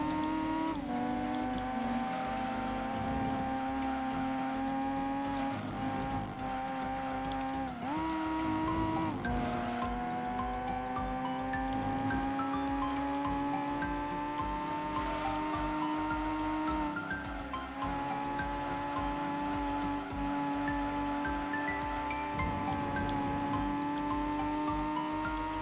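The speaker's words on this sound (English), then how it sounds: "I love the sound of this car." A race car engine in Gran Turismo 2 drones at high revs for a long stretch, pitch rising and dipping through gear shifts, with occasional tire squeals.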